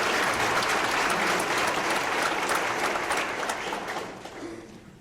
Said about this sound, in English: I think there's an applause to 50 years